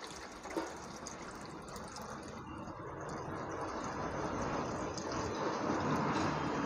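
Water pours steadily into a cake-making vessel, filling it about three-quarters full before it is boiled for a jelly cake. The gushing hiss is continuous and close, growing slightly louder over several seconds with no talking.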